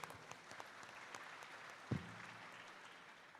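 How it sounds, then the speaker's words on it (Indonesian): Faint, distant audience applause in a hall at a morning provincial education congress, a steady patter of clapping with a single louder thump partway through. "Tepuk tangan untuk beliau."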